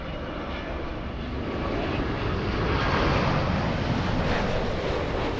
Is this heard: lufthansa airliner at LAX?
yes